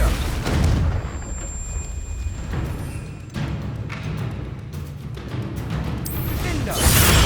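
Confringo fire spells burst repeatedly in a Hogwarts Legacy battle, a dense stream of booming blasts and crackling impacts with a louder surge near the end.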